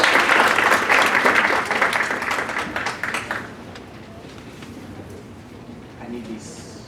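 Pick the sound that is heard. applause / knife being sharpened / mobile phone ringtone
applause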